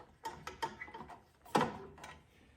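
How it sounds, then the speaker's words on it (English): Four bolts go back onto the outer shield of an Ariens snowblower after a carburetor replacement, giving a series of close, sharp ratcheting clicks and metallic taps in quick, uneven bursts. "now I'll put the 4 bolts back onto this outer shield"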